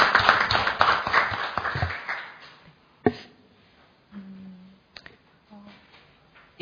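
Audience at a debate event clapping to welcome an arriving guest, a dense burst of applause that fades after about two seconds, followed by a few isolated claps and quiet room noise.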